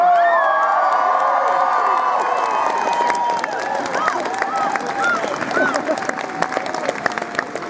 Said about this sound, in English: if you agree with me, then cheer loudly